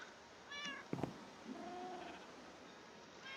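Cats meowing, two or three short quiet mews spread over a few seconds, with a faint drawn-out cry near the end, set against a low hiss of background noise.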